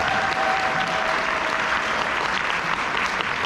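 Steady, dense applause from a seminar audience, loud and continuous throughout, with no voices standing out over the clapping.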